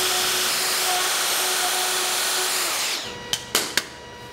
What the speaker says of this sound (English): I cut the mortise on one side, rotate the workpiece, and then cut the second mortise